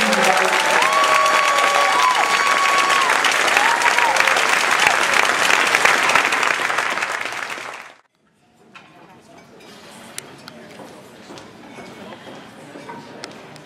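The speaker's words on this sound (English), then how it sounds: "please give another very robust round of applause for our" Loud, dense audience applause at a Toastmasters speech evaluation contest fills the room for about eight seconds, then cuts off abruptly into quiet room tone with faint sounds.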